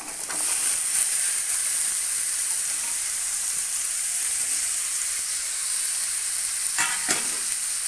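Pumpkin pieces fry in masala, a loud, continuous close-up sizzle and hiss, with a couple of brief stirring scrapes near the end and no speech.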